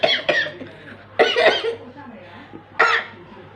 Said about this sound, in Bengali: হাঁচি না কাশি করলো।